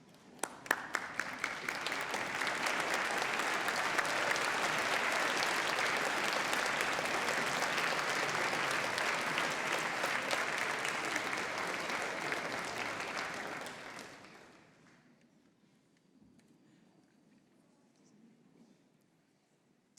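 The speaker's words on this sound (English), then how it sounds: "give them a round of applause for all the help they've given you" University graduation ceremony audience applauding families and supporters: a few separate claps build quickly into loud, sustained applause from a large hall that holds for about twelve seconds, then fades out to near silence.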